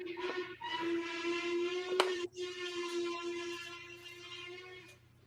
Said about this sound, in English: We want to hear the whistle.